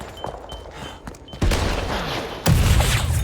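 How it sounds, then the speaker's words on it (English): Explosions in the game First Light, with two sudden loud booms about a second apart that leave a rumbling, crackling roar after each, preceded by quieter clicks and thumps. "Why is it exploding everywhere?"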